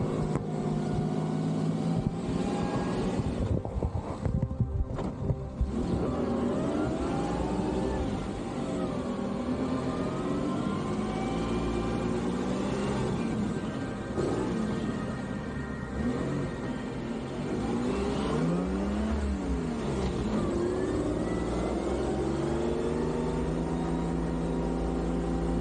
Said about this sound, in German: Tapfer wühlt sich der Unimog durch den weichen Wüstensand.